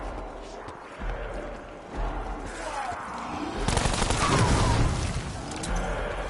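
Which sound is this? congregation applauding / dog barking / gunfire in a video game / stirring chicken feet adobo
gunfire in a video game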